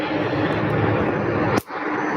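A UPS MD-11 on the runway, its jet engines giving off a steady broad roar at moderate distance that drops away sharply near the end.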